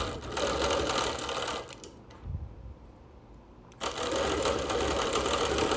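A sewing machine stitching quilted circles on wool runs in a steady fast whir, stops for under two seconds, then resumes at the same close, even pace.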